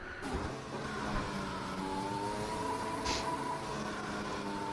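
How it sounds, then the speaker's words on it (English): A Formula 1 car sits on the starting grid at the Spain circuit in the F1 2021 video game while its engine revs and holds a high buzzing drone with layered harmonics, steady and continuous with no talking. "sitting in first, just revving it"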